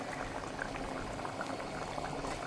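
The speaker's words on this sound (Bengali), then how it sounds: "সাদা ভাত রান্না করছি" White rice boiling in a pot, a steady dense bubbling and gurgling of water, close and even throughout without pauses, with no voices.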